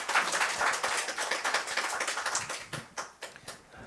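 A church congregation at a Sunday worship service claps to welcome a visiting pastor: dense, steady clapping that thins out toward the end into a few scattered, separate claps.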